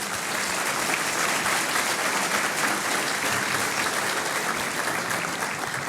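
A large luncheon audience at a 2016 mayor's business event claps steadily and loudly for the full six seconds, a dense, even wash of applause with no voices over it.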